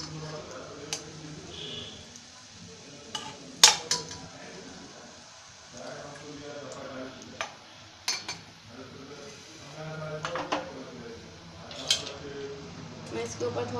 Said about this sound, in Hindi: मैं इसे एक प्लेट में निकाल लेती हूँ